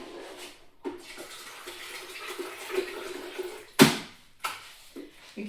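Warm water is poured in short splashing bursts, close and fairly quiet, with a couple of sharper knocks between pours.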